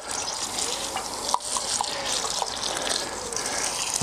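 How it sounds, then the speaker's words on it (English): Water splashes and gushes steadily onto sweet corn plants and soil on an allotment in the evening, a continuous close pour with faint drips and patters throughout. "So what I'm doing is giving them a good old watering tonight."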